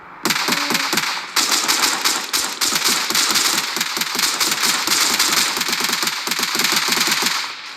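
Rapid automatic gunfire from the video game L.A.C rattles in long, nearly continuous bursts, loud and close, with brief gaps between volleys.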